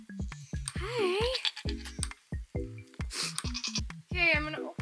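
Goats on a farm bleat repeatedly, close and fairly loud, with short wavering cries overlapping one another and no talk.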